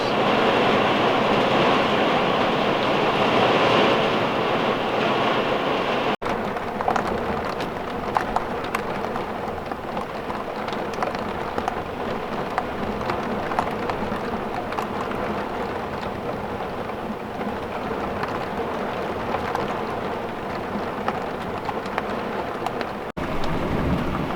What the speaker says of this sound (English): It almost sounds like hail, but it's not. Just very big raindrops.